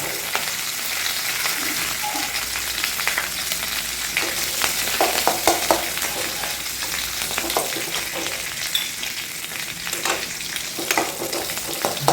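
Curry leaves sputter in hot oil for a Kerala fish curry, a steady close sizzle with crackling pops throughout and occasional stirring scrapes in the pan, no voices.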